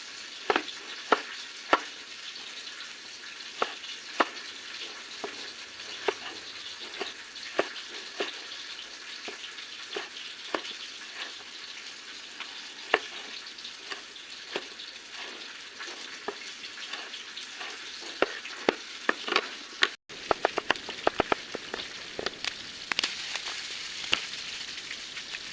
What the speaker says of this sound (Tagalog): nagisa-gisa na ako ng bawang at sibuyas and then kamatis